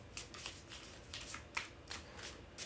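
A deck of tarot cards being shuffled by hand, in a series of quick, crisp riffles and taps repeating at a steady rhythm, close and soft in a quiet room.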